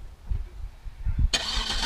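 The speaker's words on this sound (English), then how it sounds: "It's got a neat feature called remote engine start." A 2007 Cadillac DTS engine cranks by remote start and catches, bursting from a quiet low rumble into a loud, steady running roar.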